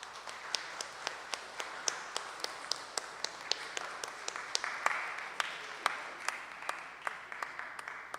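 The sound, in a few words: audience applause at opening ceremony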